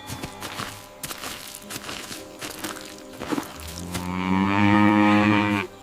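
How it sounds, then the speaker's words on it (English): A gentle brown cow in an animated fairy tale lets out a long, loud, close moo near the end, preceded by soft shuffling hoof steps and rustling in a quiet rural scene. "their only treasure was a gentle brown cow named Milky White"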